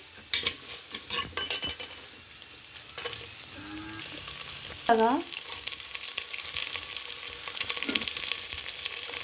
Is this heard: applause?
no